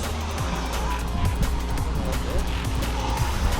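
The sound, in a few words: Traxxas UDR RC truck motor spinning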